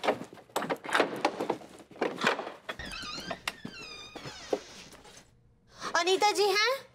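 A house door being opened for visitors, with a squeaky, creaking swing and a thunk. It follows someone talking and comes before more voices.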